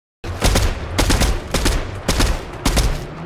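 Gunshots from a gun in the horror game Backrooms: a quick, loud series of close, evenly spaced shots that begins sharply after a moment of silence.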